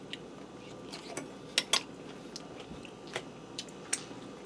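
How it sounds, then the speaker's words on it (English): Someone eating chicken taco casserole made in a Ninja Foodi, close-up chewing with a few sharp crunches of tortilla chips and light clinks of cutlery on a dish. "You get the crunch from the tortilla chips"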